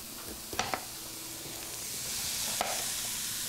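Vegetables stir-fry in a pan with a soft, continuous sizzle, broken by a few quick clinks and scrapes of stirring, fairly quiet and close.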